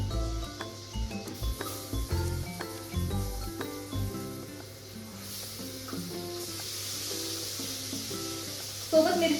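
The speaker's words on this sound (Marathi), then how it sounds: "तर आता याच्यामध्ये टाकणार आहे मी कांदा आणि टोमॅटो." Onion and tomato frying in oil for a mushroom masala, a soft steady sizzling hiss that rises in the second half beneath background music.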